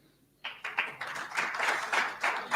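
Audience applause at a teachers' union matric awards ceremony, starting abruptly after a brief quiet and continuing as dense, sustained clapping from a crowd in a hall.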